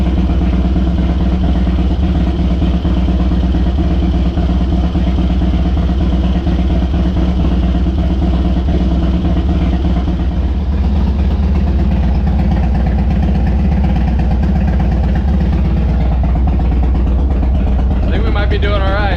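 A Harley-Davidson Dyna motorcycle engine that has been overheating idles while warming up, a loud, close, steady low rumble holding even for the whole stretch, with a faint higher whine near the end.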